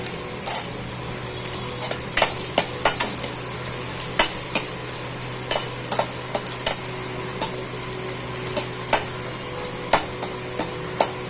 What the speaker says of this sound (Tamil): அடுத்து கொஞ்சம் மோர் வத்தல் வறுத்துக்கலாம்